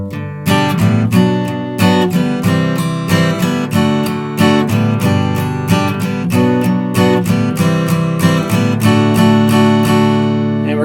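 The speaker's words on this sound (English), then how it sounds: "so the introduction sounds like this" An acoustic guitar plays the intro of a song, strummed chords with a picked lick in a steady rhythm, close and loud, with no talking.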